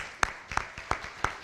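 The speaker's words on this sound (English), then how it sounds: "we can clap" Four sharp, evenly spaced claps from a small audience at a lecture sound close and fairly faint in a quiet room.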